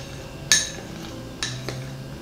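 A spoon clinks sharply against a bowl a couple of times while cocoa powder and coconut oil are stirred together for vegan chocolate, the taps close and fairly quiet.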